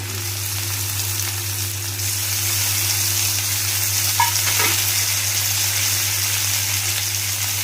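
Chopped tomatoes hit a frying pan and sizzle with a steady, fairly loud hiss that holds throughout, over a constant low electrical hum, with a faint clink partway through.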